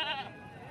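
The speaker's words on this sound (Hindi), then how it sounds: "ये टैडी बकरी खड़ी हुई है भाई" A Teddy goat standing at a livestock market lets out a short bleat, fairly loud and close, fading into market background noise.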